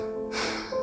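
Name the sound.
person blowing their nose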